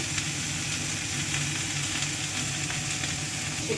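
Green chillies hit a hot pan with healthy home cooking underway, producing a steady, loud, close sizzle and frying hiss that runs unbroken with no talking.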